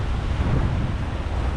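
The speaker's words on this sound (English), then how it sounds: "But we've got a nice breeze." Steady wind gusting across the microphone on a boat travelling a Mississippi river waterway, a continuous low rumbling buffet with water wash beneath, close and fairly loud with no talking.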